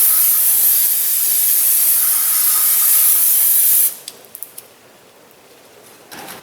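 Brake parts cleaner sprays onto a brake caliper in one loud, steady hiss lasting about four seconds, then stops, followed by a few faint clicks and a quieter hiss at the end.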